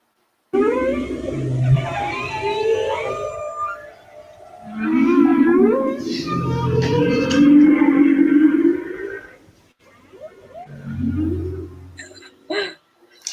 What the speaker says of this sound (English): It's the humpback whale.